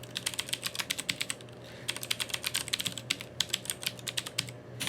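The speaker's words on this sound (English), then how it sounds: "we're gonna manually type these in real quick" Rapid typing on a computer keyboard, with dense clicking keystrokes in quick bursts and short pauses, close and fairly clear over a steady low hum.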